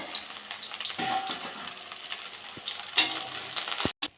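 Spiced pointed gourd slices frying in hot oil in a pan, a steady close sizzle that runs throughout with a few light clinks and scrapes, cut off by a brief sharp knock at the end.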